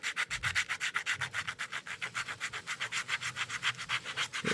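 Sandpaper rubbed by hand over a dbrand Killswitch case for the Nintendo Switch 2, held without a vise to fix Joy-Con detachment, in steady rhythmic back-and-forth strokes, close and fairly loud, with no talking.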